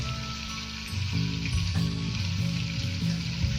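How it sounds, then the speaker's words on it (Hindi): Whole spices, coriander seeds, chilli flakes and turmeric, frying in oil for beef karahi, with a loud, dense, continuous sizzle and crackle close up, intensifying about a second in. "इन सारे मसालों को तकरीबन हम 1 मिनट के लिए फ्राई कर लेते हैं"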